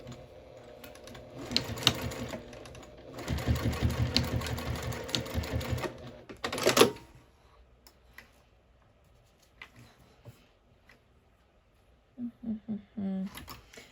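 A sewing machine stitches seams on an Estrella bag in bursts, steady rapid whirring runs that stop and restart, followed by quiet pauses and a brief voice at the end.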